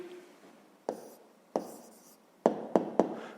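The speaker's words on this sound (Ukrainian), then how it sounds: "Записуємо тоді відповідь." Pen on paper writing out a math answer by hand, a few separate close scratchy strokes, the last three quick in succession, with quiet pauses between and no talk.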